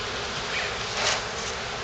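Honey bees buzz steadily around an open hive during a spring inspection, a dense close-up hum that swells briefly toward the end with no voices.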